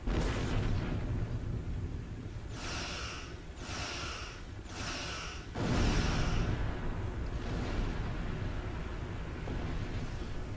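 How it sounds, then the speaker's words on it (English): Plasma torpedoes fire in a Star Trek Online space battle, four pulsing bursts in quick succession followed by a deep booming impact, all over a steady loud rumble of engine and combat noise. "It's a plasma torpedo."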